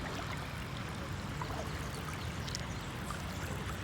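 Kayak or canoe paddle strokes dipping and pulling through water, a steady wash of splashing and trickling close by with no talking.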